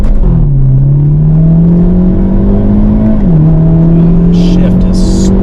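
A 2023 Hyundai Elantra N accelerating hard in race mode, loud and close from inside the car, the engine note climbing steadily, dipping at a gear shift, then climbing again, with a brief voice near the end.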